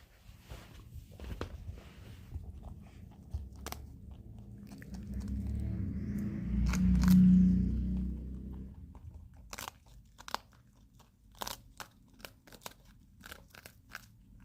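Pet rabbits crunching food at breakfast, close-up sharp bites and crackly chewing that come in scattered bursts, denser toward the end, over a low background rumble.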